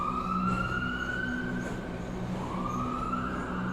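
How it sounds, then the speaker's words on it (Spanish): Several emergency sirens wail together with slowly rising and falling tones over a low rumbling street backdrop, steady and moderately loud throughout, an ambulance-style siren effect that seems to be approaching. "A lo lejos llegaban los servicios de emergencia, se escuchaban las ambulancias aproximarse."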